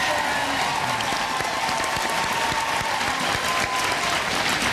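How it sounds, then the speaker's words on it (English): A studio audience on a family game show claps for a contestant and his father. The applause is loud, continuous and close, and keeps an even sustained roar of many hands throughout. "But can I hear a big applause for Ken and his dad?"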